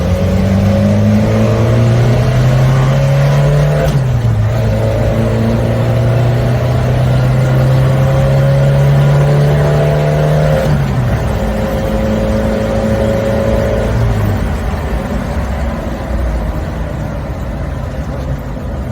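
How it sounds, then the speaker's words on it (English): Suzuki Samurai floored in second gear, a loud steady engine drone rising in pitch as it accelerates, with a brief dip around a shift-like break, heard from inside the cab without talk. "We're in second gear. Now I'm gonna floor it."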